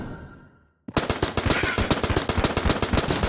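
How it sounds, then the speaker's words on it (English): Rapid automatic AK rifle fire from the Enter the Gungeon video game erupts after a brief fading tone and a short silence, continuing as a loud, steady stream of evenly spaced shots. "We'll use our AK here."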